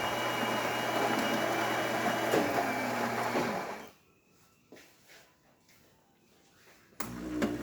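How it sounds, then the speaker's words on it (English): A Gaggia Accademia espresso machine pulls a test shot after a full tune-up, a steady pump hum and buzzing drone that cuts off partway, leaving quiet clicks, then a brief loud restart. "So now we're going to test all the functions of the machine, starting with espresso."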